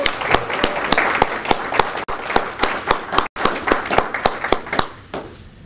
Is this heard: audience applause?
yes